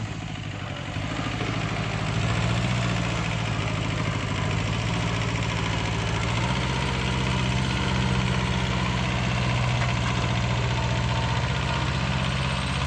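A Kubota B5001 small tractor engine idles steadily and evenly throughout, a low continuous rumble with slight vibration, close by and fairly loud.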